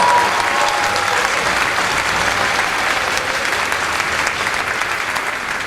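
A large audience at a school marching band event gives a round of applause, a loud, sustained roar of clapping that stays even throughout with faint crowd noise mixed in.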